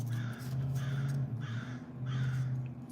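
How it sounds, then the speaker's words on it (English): Crows cawing in a slow series of about four harsh calls, evenly spaced and fairly close, over a steady low hum. "Birds."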